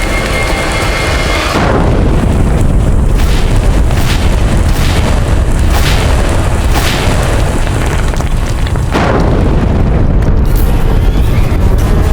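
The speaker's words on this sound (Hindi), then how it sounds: "धमाका हुआ है अकबर की छावनी में।" A massive, roaring gunpowder explosion in a military camp erupts and keeps rumbling loudly, with a second surge of thunderous booming later, dense and overwhelming throughout.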